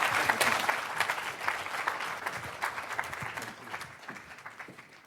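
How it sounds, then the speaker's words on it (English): Audience applause for two provincial ministers at a Surrey Board of Trade transportation update event, a dense steady clapping that fills the room and gradually tapers toward the end. "a round of applause to Minister Fleming and Minister Coulter"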